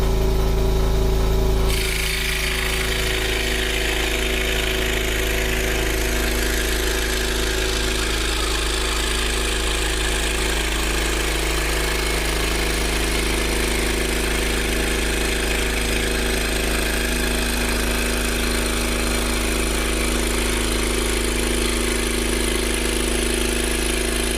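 A scroll saw fitted with a Flying Dutchman blade cuts walnut, a steady, close mechanical buzz with a faint tonal hum, starting abruptly after a short pause and running evenly throughout.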